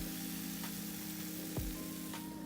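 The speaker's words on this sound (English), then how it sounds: "you hear that sizzling?" Steady hissing sizzle of food frying in a pan, with a few faint clicks and clanks of cookware along the way.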